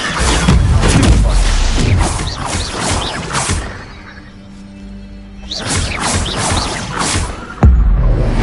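Spellcasting in Hogwarts Legacy: whooshing, crackling magical bursts with impacts, in two loud flurries separated by a quieter pause, ending with a sharp thud.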